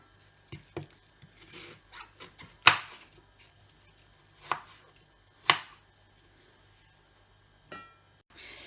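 Knife chopping an apple into pieces on a board for a vegan porridge breakfast, a handful of sharp separate cuts with scattered lighter taps between them, close and clear with no voices.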